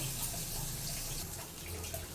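Water is poured into ragi flour in a cooking pan, a soft, continuous pouring rush heard fairly faint and steady without any talking.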